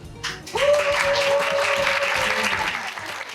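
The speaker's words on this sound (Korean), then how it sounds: "박수 한번 부탁드립니다." Audience applause at a neighbourhood residents' general meeting in Majang-dong, Seongdong-gu, swelling in after a moment into steady, full clapping that carries on to the end.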